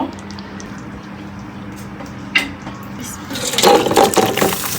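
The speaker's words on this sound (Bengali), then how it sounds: "রান্না করা শেষ এখন আমি তরকারিটাকে ঢেলে নেব" Cooked curry is poured from a pot into a serving dish, a soft wet splashing pour that rises near the end after a quiet kitchen background.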